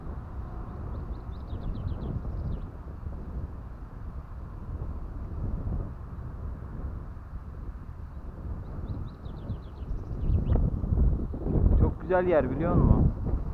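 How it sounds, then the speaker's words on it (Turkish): A breeze buffets the microphone outdoors in a steady rumbling gust that strengthens toward the end, while a person speaks briefly over it. "Şu esinti olmasa var ya."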